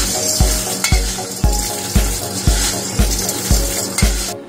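Puffed rice, roasted chana and salt tossed together for Kolkata-style jhal muri, giving a steady dry rustling crackle with regular scraping knocks of a spoon against the bowl about every half second.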